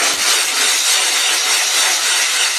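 A sharpening stone rubbed on the carbide of a crosscut saw being restored, giving a steady, close, broadband scraping hiss that runs without pause and carries no talk.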